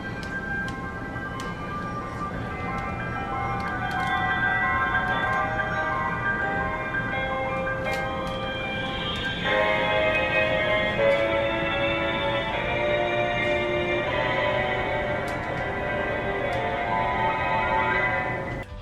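A bright electronic melody from the Zelda video game, the Master Sword theme, plays steadily for almost twenty seconds at moderate volume. It sounds like a jingle with a denser, higher passage in the middle and no talk over it.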